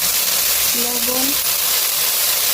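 Spice paste of ginger, garlic, onion and tomato with turmeric, cumin and coriander frying in a pan for a fish-head dish, a loud steady sizzle throughout with a brief voice underneath.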